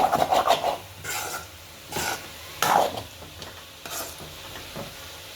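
Spoon scraping and stirring potato fry coated in masala in a pan, a few separate rasping strokes with soft sizzling between, close and fairly quiet, no talking.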